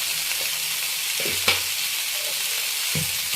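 Cauliflower frying in a pan with spices, a steady dense sizzle filling the background, with a few faint clinks of a stirring utensil and no talking.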